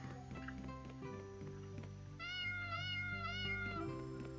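A cat meows in the game Worlds Dawn, a few rising harmonic calls over steady background game music, fairly close and clear with no talk.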